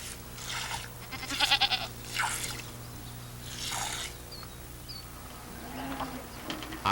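A family's milk goat bleating several times in short, wavering calls, fairly close, over a low steady hum with faint insect-like buzzing between the cries.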